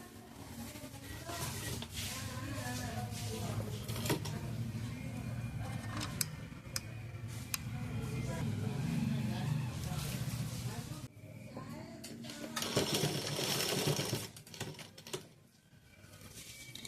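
A sewing machine doing kinara edge stitching runs with a quiet, steady mechanical patter and sharp ticking clicks, dropping off briefly near the end.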